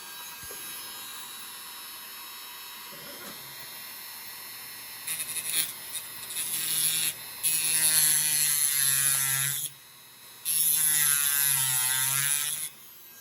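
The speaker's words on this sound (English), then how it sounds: "the cutting wheel on the Dremel is going through them pretty quickly" Dremel rotary tool with a cutting wheel slicing through soft steel magnet plates from a Märklin 3030 electric locomotive, a steady loud grinding whine that starts after a quiet lead-in, with a brief pause before cutting resumes.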